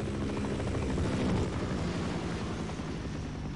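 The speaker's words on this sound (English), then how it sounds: "Sounds like a chopper" Steady rumbling thrum of a helicopter in the video game Half-Life: Decay, continuous and fairly loud, with no voices.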